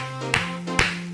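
Two crisp hand claps, evenly spaced, ring out over upbeat background music in a chair-based seated cardio workout for seniors.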